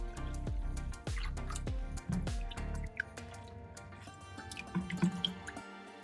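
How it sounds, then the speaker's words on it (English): Fresh coriander is dropped into a bowl of water mixed with salt and baking soda, giving soft drips, splashes and wet squishing close by, then a quieter gentle sloshing. "Dissolve it, then add all the coriander you bought to soak for 10 minutes."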